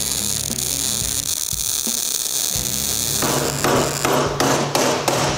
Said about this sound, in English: We'll clamp them down, beat them and heat them until the contours are just right.